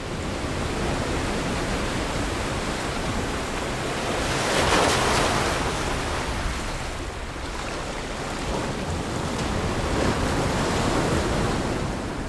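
Pacific Ocean waves surge and wash continuously, a broad roaring rush with swells building and fading, mixed with wind buffeting.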